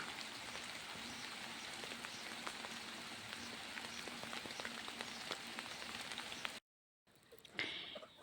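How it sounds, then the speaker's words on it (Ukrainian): Steady, even rain patters on surfaces, a dense continuous hiss that cuts off abruptly near the end, leaving quieter ambience. "Такий гарний, рівномірний дощик"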